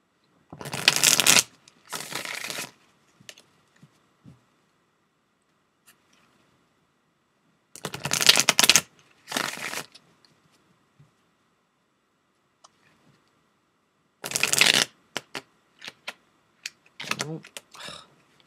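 Tarot cards are shuffled in short riffling bursts, three clusters of quick papery flutters separated by near silence, close and moderately loud.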